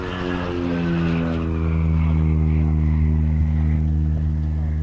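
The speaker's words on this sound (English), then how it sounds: "Tony Richard in the Super Decathlon." Super Decathlon propeller aircraft departing at an airshow, a steady, strong engine-and-propeller drone with clear harmonic hum, moderately close and growing slightly louder over several seconds.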